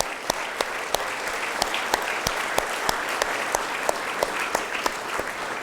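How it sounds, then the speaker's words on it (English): An audience at a city's state-of-the-city address gives a round of applause for a staff member and her team, steady dense clapping with a few sharp, louder claps near the microphone punctuating it. "Please give them a round of applause."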